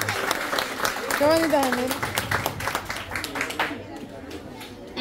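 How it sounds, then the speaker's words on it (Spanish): Applause from an audience at a school graduation ceremony for kindergarten children, steady clapping and chatter throughout with a nearby voice speaking over it and the crowd noise thinning toward the end. "Regalémosles un fuerte aplauso a los niños de Parvulario."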